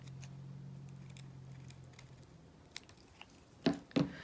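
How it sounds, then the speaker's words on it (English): Scissors trimming folded crepe paper, heard as a few soft, close snips near the end after a quiet stretch with a low hum. "I'm going to trim off a little bit from this fold and just taper it out."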